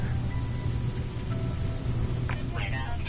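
Steady storm rain hisses over a low rumble on an alien planet in No Man's Sky, a continuous wash broken late by brief electronic chirps and tones.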